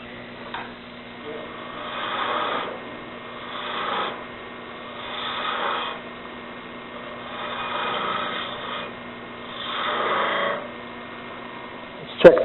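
A spindle gouge cuts a wooden bat in rhythmic passes, each a rising and falling scraping whoosh about every two seconds over a faint motor hum, ending in a sharp knock.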